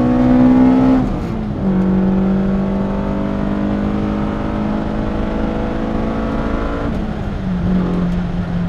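BMW 320is E30 with the S14 engine, heard from inside as the engine holds a loud, steady high-revving drone with gear shifts near the first and seventh seconds, where the pitch drops and then climbs again.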